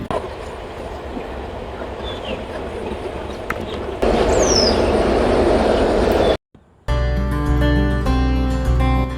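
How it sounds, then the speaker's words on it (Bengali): A train rumbles past close by a village house with a loud, steady roar and rattle of wagons. After a brief silence, music starts. "বাড়ির সামনে দিয়ে ট্রেন যাওয়ার দৃশ্য দেখুন সেই সুন্দর দৃশ্যটি"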